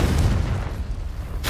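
A Confringo blast spell goes off in Hogwarts Legacy, giving a loud, deep, rumbling boom with no voices, and a sharp burst of crackle near the end.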